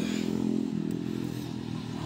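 A motorcycle engine running steadily, a low, droning rumble with faint clatter that stays at an even level throughout, heard at moderate distance outdoors with no speech.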